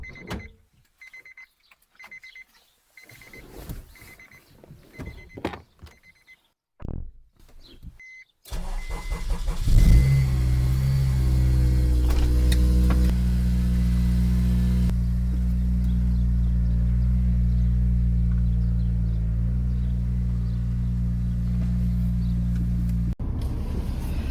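A Honda Civic Type R is cranked and fires up, then settles into a steady, loud idle that stays close and continuous, with a few quiet clicks and handling noises before the start.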